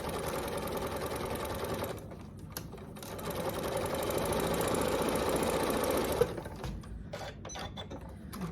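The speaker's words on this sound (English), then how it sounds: "we're just gonna sew down using our 1/4 inch seam" A sewing machine runs steadily, stitching a quarter-inch seam through quilt fabric for a table runner, a close, rapid mechanical whir that slows briefly around two seconds, then picks up again and stops near the end.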